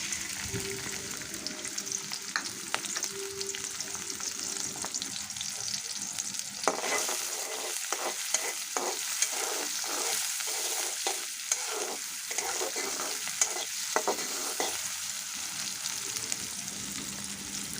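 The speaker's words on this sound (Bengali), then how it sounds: "তেলটা গরম হলে এখানে কাঁচামরিচ এবং পেঁয়াজ কুচিটা দিয়ে দিব দিয়ে একটু নরম করে ভেজে নেব" Green chilies and chopped onion frying in hot oil in a wok, a continuous soft sizzle with a run of rhythmic spatula stirs and scrapes in the middle, close and steady without speech.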